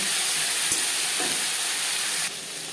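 Eggplant pieces sizzle steadily in hot oil with black cumin seeds in a pan, a constant close frying hiss that drops slightly in level near the end.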